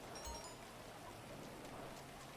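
Steady rain falling in the GTA 5 video game, a soft continuous patter across the whole stretch, faint and even with no talk over it.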